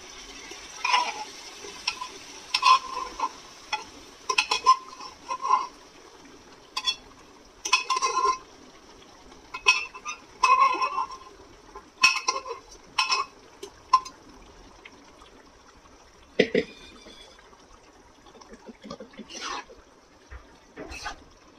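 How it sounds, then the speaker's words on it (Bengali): Chickpeas for Amritsari pindi chhole go into a pot of well-cooked roasted spice masala and are stirred, giving repeated wet scraping and clinking of a spoon against the pot in uneven bursts, with quiet gaps between. "এইবারে ছোলে এটার মধ্যে দিয়ে দেবো।"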